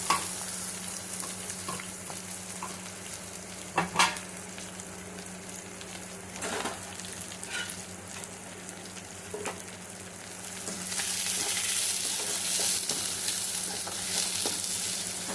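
Crushed garlic and chopped onion frying in hot oil for restaurant-style potato tomato chutney, a steady sizzle broken by spoon scrapes and stirring clatter, growing louder in the last few seconds.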